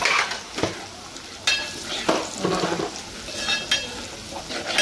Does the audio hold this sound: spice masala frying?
yes